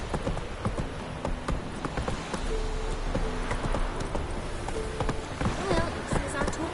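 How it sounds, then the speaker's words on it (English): Roach, a horse in The Witcher 3, trots along in rapid rhythmic hoof clip-clops against a faint ambient game background, with a voice speaking briefly over it. "Come on, Roach"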